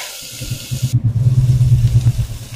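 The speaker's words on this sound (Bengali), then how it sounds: "তো ব্যাস এক এক করে আমি মাছগুলোকে আগে ভেজে নেব" Fish pieces frying in hot oil in a small wok, a steady close crackling sizzle with a low rumbling undertone that grows denser after the first second; no one speaks.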